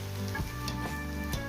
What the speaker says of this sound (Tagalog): Ayan, piniprito ko lang.